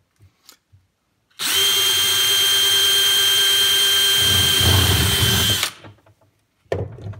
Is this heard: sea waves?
no